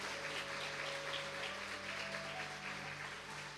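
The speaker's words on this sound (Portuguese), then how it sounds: "Uma salva de palmas para Jesus que vai nos levar" A church congregation applauds, a soft continuous patter of clapping that sounds distant and faint throughout.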